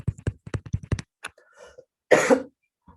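A burst of quick speech-like syllables during a quantum walks tutorial, then a single harsh, close cough from a sick speaker near the end, fairly loud against otherwise quiet surroundings.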